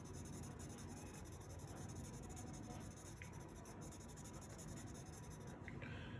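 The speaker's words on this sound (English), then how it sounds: "So you just take the smudger, right, and start." A paper smudger blending pencil shading on sketching paper gives a soft, continuous rubbing scrape that runs steadily throughout, close and fairly faint, with no voices.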